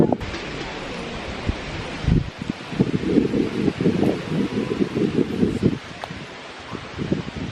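Wind gusts at a lakeside picnic area at Boraboy Lake in Amasya, with a continuous rushing roar and buffeting against the microphone that swells and rustles in waves.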